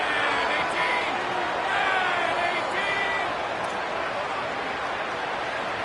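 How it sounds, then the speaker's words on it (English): A loud football stadium crowd at Boise State roars continuously on third down, a dense, deafening wall of cheering and noise with a play-by-play voice over it. "This Boise State crowd bringing the noise. It's deafening here on third down."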